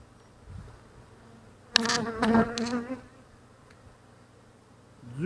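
Honeybees buzz at an opened orphan hive during an inspection, a faint background hum joined by a close, loud buzz as a bee passes near for about a second, then fades.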